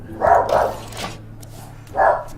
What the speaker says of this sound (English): I better go see what she's barking about.